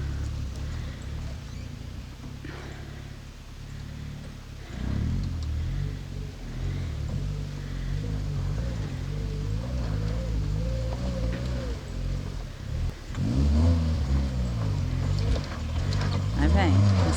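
A Lada Niva 4x4 crawls slowly up a badly rutted dirt track. Its engine drones steadily under knocks and rattles from the rough ground, and voices talk over it throughout.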